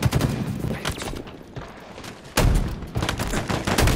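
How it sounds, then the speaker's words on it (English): Gunfire from a shotgun in the shooter Halo Infinite, heard as a dense run of sharp, loud blasts with a jump in intensity partway through, layered over game effects. "did I shoot this guy in the face with a shotgun twice and he didn't die?"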